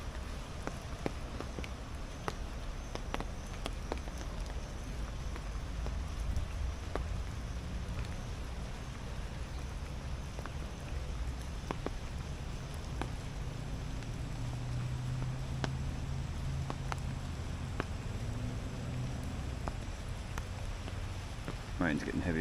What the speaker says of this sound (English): Rain's getting heavier again.